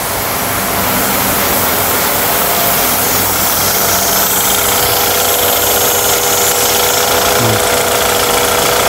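BMW 520i with an N20 petrol engine runs steadily in a workshop, a continuous close mechanical hum and whir holding an even level throughout with no talk.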